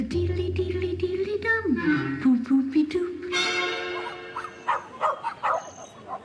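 Small Chihuahua dog barking and whimpering in short yelps over a sustained tonal background, with a clear bark burst midway; fairly close and moderately loud.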